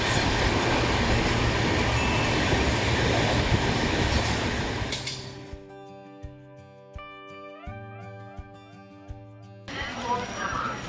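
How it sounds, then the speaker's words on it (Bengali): A Lalkuan Express pulls into a Howrah station platform with a loud, dense rumbling roar that drops off about halfway through. It gives way to quieter platform ambience with rhythmic wheel clicks and tonal hums before noise swells again at the end. "আমাদের ট্রেন ঢুকে গেল, প্ল্যাটফর্মে দিয়ে দিল।"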